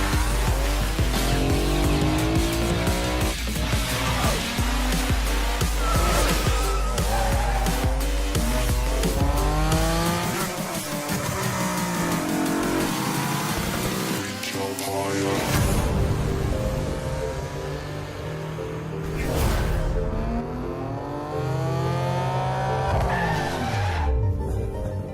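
A BMW M2 Coupé with 370 horsepower races in a video game, its engine revving loudly and continuously with repeated tire squeals, under a steady spoken voice throughout.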